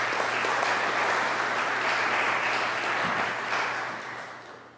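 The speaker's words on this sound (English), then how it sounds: "Nancy MacLean, let's give her a round of applause." An audience at a panel discussion applauds a historian being introduced, a steady roomful of clapping that holds evenly and then tapers off toward the end.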